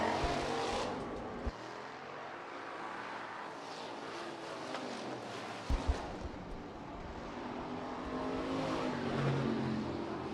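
Hobby stock race cars at a dirt speedway heat race, engines roaring steadily as the pack passes, a sustained loud rumble with a couple of brief knocks, no voices over it.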